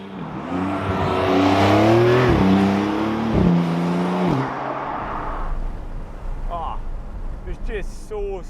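A 2021 Porsche 911 (992) Targa 4S Heritage Edition accelerates hard in Sport Plus with paddle shifts, its engine note climbing loudly from inside the cabin with quick dips at each upshift, then easing into a softer road and wind rush.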